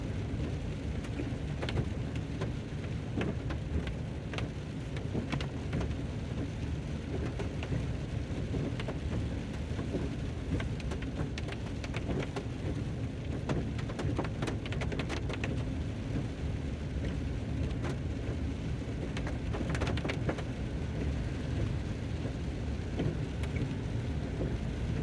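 Steady rain during a drive through Cades Cove, a rural farming valley, in an 04 Dodge Ram 1500: a constant dense hiss of rainfall with low road and engine rumble underneath, unbroken throughout and with no talk.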